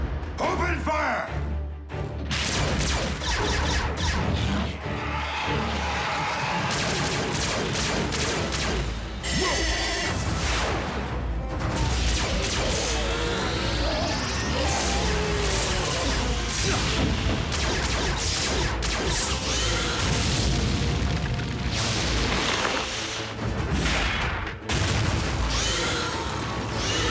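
Gunfire and explosions in a Transformers Prime animated battle: continuous heavy blasts, crashes and booming impacts throughout, loud and dense, with voices shouting over the din.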